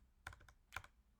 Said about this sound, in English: I'm really having a hard time typing today.